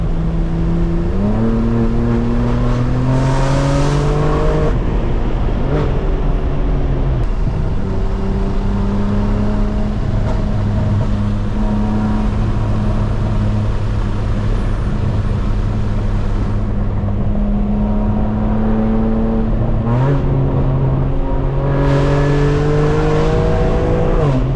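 Straight-piped BMW M4 Competition blasting through a canyon road, loud and close, the engine note climbing repeatedly through the gears with sharp upshifts and brief lifts between long pulls.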